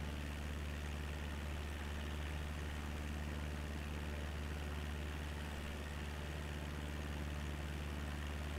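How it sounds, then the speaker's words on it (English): Aircraft engine in a flight simulator game, heard from an external view, gives a loud, constant low drone with a steady hum and no change in pitch, heard alone. "I need to turn engine sounds back down now, because now external it's really loud."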